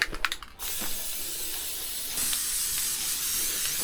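An aerosol spray can applies a protective coating to a steel mailbox framework, giving a steady, close hiss that starts after a few brief bursts and runs continuously to the end, with no talking.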